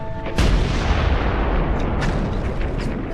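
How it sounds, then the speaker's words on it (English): A sudden heavy World War I-era blast booms out and then rumbles on with a dense, roaring low-end wash that lingers for several seconds. "Then came the frightful explosion."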